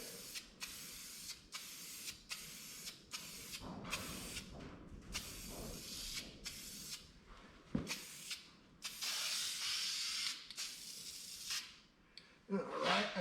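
Parts get a second coat of spray paint in a run of short, close hissing bursts, some brief and some held for a few seconds, separated by pauses.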